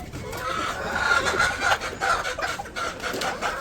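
Hens clucking near a rural Bangladeshi home while a hen feeds, soft repeated clucks and chatter over light background noise.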